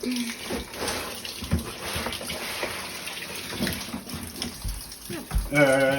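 Water pours steadily from a leak inside a recently purchased house, a continuous rushing wash with clattering and movement heard over it, close and moderately loud, ending in a brief tonal sound.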